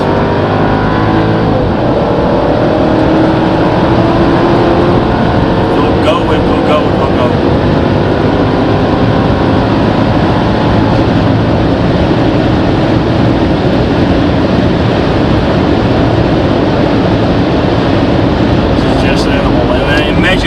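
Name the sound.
Mercedes CLS55 AMG W219 accelerating in sport mode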